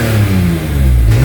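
Loud, close engine note from a BMW M3 with a 3.2 straight-six, said to have running issues, holding a steady throaty drone with a slight pitch drift over a brief moment, no talk.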